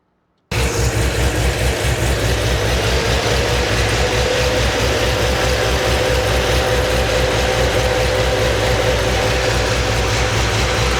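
A 1999-2007 LS V8 truck engine catches abruptly after a moment of silence and settles into a steady, rattling idle with a rhythmic mechanical ticking throughout, after a catch can install.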